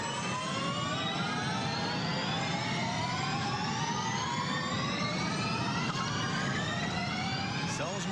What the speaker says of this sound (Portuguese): São os motores elétricos.